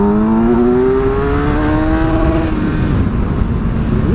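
A Kawasaki Versys 1000 motorcycle with a one-litre engine accelerates hard on an open road, its loud, smooth engine note climbing steadily in pitch close to the rider, with heavy wind rush throughout.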